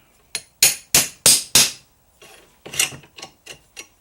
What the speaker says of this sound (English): then using the ball peen hammer